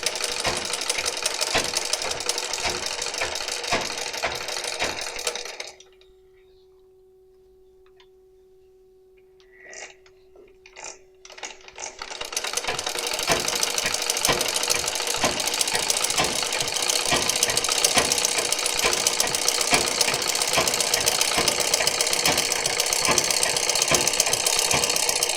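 Simple domestic sewing machine stitching a flower-petal embroidery design: loud, steady rapid needle hammering, stopping for a few seconds of near silence with faint clicks, then resuming continuously.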